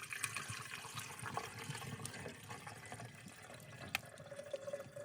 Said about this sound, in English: My husband is pouring us some tea while the bread bowls are steaming